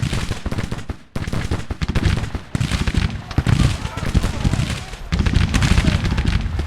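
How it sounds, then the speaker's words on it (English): Cannon canister shot and musket gunfire in a Civil War battle game, a string of loud ragged volleys and booming bursts with short pauses between them, thick with crackling rifle fire. "get canister shot upon the enemy"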